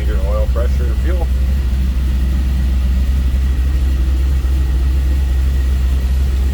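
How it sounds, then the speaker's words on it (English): A 1958 Chevrolet Apache Fleetside street rod idles after a cold start, its engine giving a loud, steady, deep rumble that does not let up. Someone speaks briefly over it at the start. "That was a cold start."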